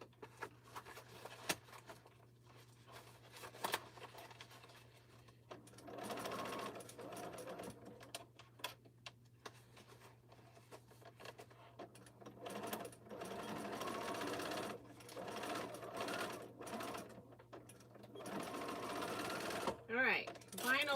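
A home sewing machine stitches through cork and vinyl fabric in several bursts of rapid mechanical whirring, separated by short pauses, while a person talks quietly nearby.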